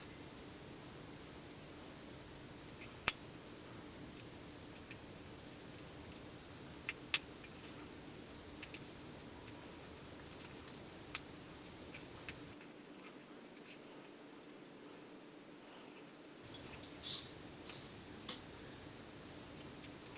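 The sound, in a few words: cutting paper pieces for a paper snowflake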